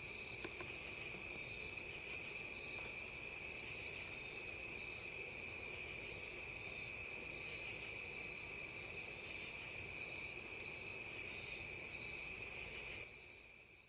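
Crickets chirping in a dense, steady high-pitched trill, continuous and moderately faint, used as a comedic silence cue, with no talking over it and a slight drop at the very end.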